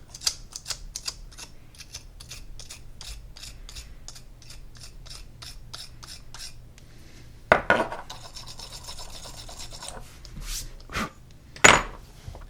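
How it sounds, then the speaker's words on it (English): A short brush scrubs the chamber area of a Bersa Thunder .45 handgun, giving quick rhythmic scratchy strokes close by, followed by a few louder knocks and handling clatter. "I'm going to go ahead and clean the chamber area as well with the short scrubbing."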